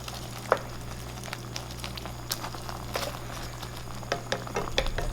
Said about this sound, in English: Put the fish down, let them cook.